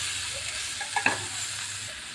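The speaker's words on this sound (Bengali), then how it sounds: "এবার একটু খুলে নেড়ে দেব" Spatula stirring a pumpkin and potato curry frying in a pan, a soft scrape and a couple of light clinks over a faint steady sizzle, close and quiet with no talking.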